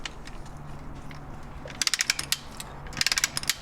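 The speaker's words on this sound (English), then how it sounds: "And then you gotta take that bolt out, which we're gonna do right now." A hand ratchet clicks in two quick bursts while backing a bolt out of the intercooler on a 2021 Ford F150 EcoBoost, close up and crisp over a low background hum.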